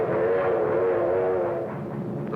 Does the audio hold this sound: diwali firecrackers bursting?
no